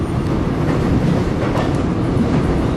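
A Seoul subway train runs on its last service of the night, its steady loud rumble and rail clatter filling the whole stretch with no voices.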